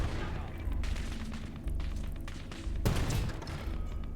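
Artillery fire in the Gates of Hell: Ostfront war game: heavy booming blasts land among continuous gunfire, with a sharp loud impact near the end and a rumbling low-end roar throughout.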